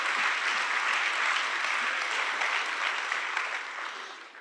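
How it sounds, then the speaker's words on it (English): A lecture-hall audience at the Santa Fe Institute claps in a brief, dense burst, steady and even throughout, then fading slightly at the end, with no voices over it. "So let's just take a moment and a quick round of applause."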